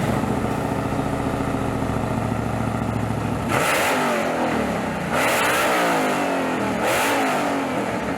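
A 1968 Dodge Charger concept with a 1,000 hp supercharged 426 Hellephant HEMI crate engine idles with a loud, lumpy rumble, then roars through three sharp throttle blips, each rising and falling back.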